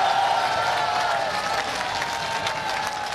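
Sustained applause from a press conference audience, dense continuous clapping that holds steady and loud throughout.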